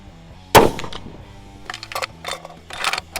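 A single loud, sharp gunshot cracks from a heavy recoiling Christensen Ridgeline rifle on a long-range shooting range, followed by quieter clicks and rattles of the rifle's magazine dropping and handling.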